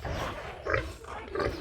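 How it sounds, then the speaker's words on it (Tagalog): A pig grunts and squeals in short bursts, fairly faint, with a few snorting calls spaced across the moment. "Nya si Bintoy nagbahog na siya sa baboy."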